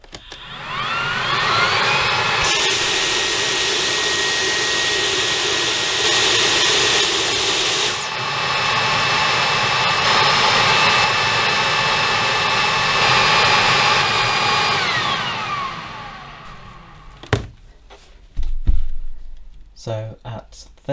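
Dyson V10 Absolute and Bosch Unlimited cordless vacuum cleaners running at maximum power, a loud steady whine with a high tone that holds for most of the stretch, then cuts off, leaving a few scattered knocks.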